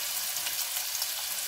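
Onion frying in a pan of melted butter and oil, giving a dense, even, close sizzle with no other sound.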